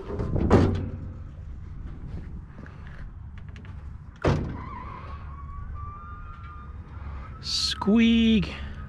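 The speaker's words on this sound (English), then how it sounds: "Squeak. Probably should oil it up." A truck liftgate squeaks as it moves, giving a thin drawn-out creak, with a solid thunk before it and a brief harsher scrape near the end, heard close in a quiet outdoor setting.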